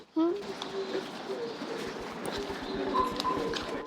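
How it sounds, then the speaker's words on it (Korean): Pigeon cooing carries softly through an outdoor scene, low repeated coos under a steady ambient wash with a few other faint sounds, moderately distant. "비둘기 소리였구나"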